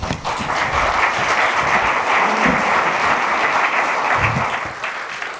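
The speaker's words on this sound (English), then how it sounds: "Please give him a round of applause." An audience applauds steadily and loudly for several seconds, a dense wash of clapping that holds even before tapering slightly at the end.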